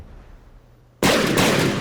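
A sudden loud cannon shell impact in the naval combat game From the Depths, a single heavy blast that bursts after a second of near-quiet and rumbles on with a dense, roaring tail.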